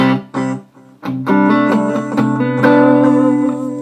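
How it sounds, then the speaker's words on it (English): An electric guitar plays through a Vox Delaylab pedal set to a lo-fi echo, a few picked notes and chords ringing out loud and close with murky, degraded repeats trailing behind. "here I'm on a lo-fi echo"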